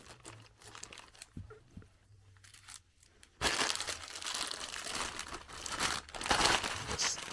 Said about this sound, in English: now it's time to use our handy-dandy scissors and cut into them, or at least cut into this package